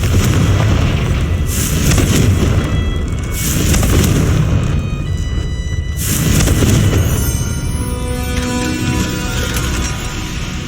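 Confringo fire spell from Hogwarts Legacy blasting in heavy, loud bursts, a deep rumbling boom swelling near the start and again around the middle, with echoing game ambience and a lingering crackle afterward.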